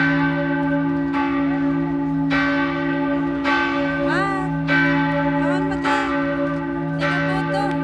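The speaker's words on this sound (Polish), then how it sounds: "O 12 dzwony biją 5 minut i naprawdę muszą być głośne." Church bells in Vienna ring loudly and continuously at noon, with strikes repeating about once a second over a steady resonant hum; no voices.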